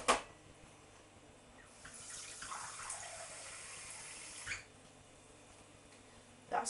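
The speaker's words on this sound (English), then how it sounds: "I'm going to add in a cup of water." A cup of water is poured into a slow cooker holding meat and its juices, making a soft, steady splashing trickle for a few seconds, faint and close, with a clunk at each end.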